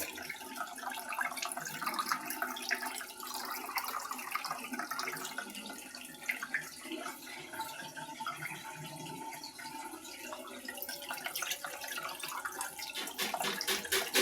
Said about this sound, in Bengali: দেখুন চিংড়ি মাছগুলো ধুয়ে তারপর নিয়ে চলে আসতেছি